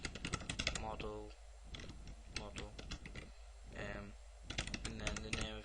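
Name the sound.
typing on a computer keyboard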